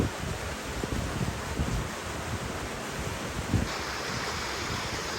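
Creek water beside a hiking trail at Switzer Falls, California, a steady close wash of flowing water with rough, noisy texture and some wind buffeting, with no talking.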